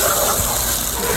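Water gushes steadily into a pot of spice-fried rice for lau khichuri, a loud, continuous pouring sound close by with no talking.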